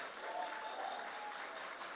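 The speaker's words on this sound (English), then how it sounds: "No, we can do better than that." An audience at a festival queen coronation claps. The applause is faint and distant, a soft steady patter lasting a couple of seconds.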